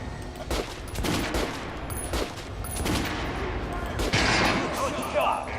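Repeated weapon fire at a shooting range in the post-apocalyptic shooter Metro: Last Light, with bursts of shots over a noisy mix and someone speaking over them.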